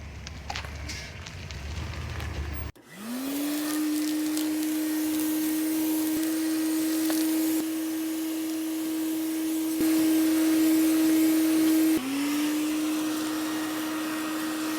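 A vacuum cleaner starts up with a sudden steady whine and drones continuously at close range on a truck's carpet, briefly cutting out and restarting near the end.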